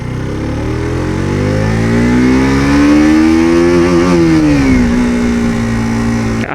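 A 2022 KTM RC 125 motorcycle engine revs loud and close as the bike accelerates on a test ride. The pitch climbs steadily, dips briefly, then holds a strong, steady drone.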